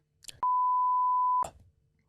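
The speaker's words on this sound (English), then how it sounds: "Can you tell me who it is and Willie will beep it" A single steady censor bleep, a pure sine tone held for about one second, cuts out a name in podcast conversation, with brief fragments of speech just before and after it.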